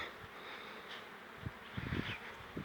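Honeybees leaving a hive's upper entrance holes during willow pollen collection, soft buzzing wingbeats passing close by in brief swells over quiet background hum.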